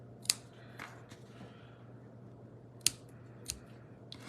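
Scissors snip ribbon tails on a handmade card, a few sharp, close cuts spaced apart over a quiet room hum, with faint paper rustles between them.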